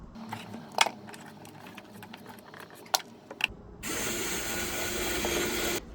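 A screw is driven into a cupboard door board, first with a few clicks and taps as it is lined up, then with a steady, loud whirring drive that runs to the end.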